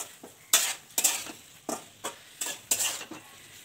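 Kochu shak curry stirred in a pot with a spoon, a series of close scraping, clinking strokes in a steady uneven rhythm with a light sizzle underneath, no voices.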